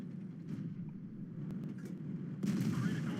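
Tank cannon fire in World of Tanks, with a Jumbo Sherman battling a Cromwell: steady engine rumble with brief gunshot-like blasts, and a louder burst near the end, with no talk.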